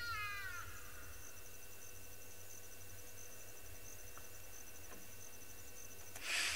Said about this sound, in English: it's very unusual to hear the Hadada ibis make calls